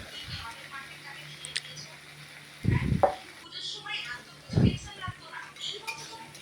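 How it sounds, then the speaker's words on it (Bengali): Onion, ginger, garlic and tomato fry in a pan for a Bengali fish curry (macher jhal), giving a low sizzle broken by two louder stirring scrapes and knocks near the middle. "পেঁয়াজ দিয়ে আদা রসুন দিয়ে টমেটো দিয়ে ভাজা হচ্ছে।"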